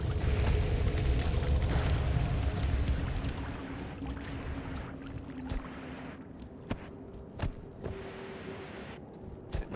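A big explosion in the video game Noita, a loud roaring blast that fades into a crackling, rumbling tail, with scattered small pops and crackles afterward.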